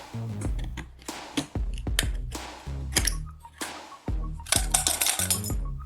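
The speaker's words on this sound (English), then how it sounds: "Using a compass, carefully cut out the bottom of the can with a utility knife." A utility knife cuts out the bottom of an aluminum can, producing quiet, close clicks, scrapes and metallic clinks in an irregular series, alone without talk.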